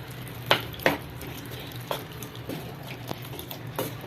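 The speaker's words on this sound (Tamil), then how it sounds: "இப்போ நல்லா வந்துட்டு இதை கலக்கி விடுங்க." A spoon stirs radish curry in a pan, giving several distinct scraping clinks against the metal, a couple of them loud and close, spaced irregularly over a soft simmering hiss.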